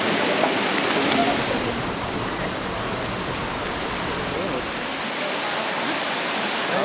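Deojhar waterfall gives a constant, loud broadband rush of falling water that stays even from start to finish.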